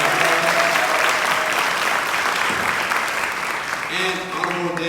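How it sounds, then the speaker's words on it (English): Sustained audience applause at a formal awards gala honoring the Premier, a dense steady wash of many hands clapping in a hall, with faint voices mixed in. "Please give our Premier a round of applause."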